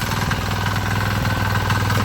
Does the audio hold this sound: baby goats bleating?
no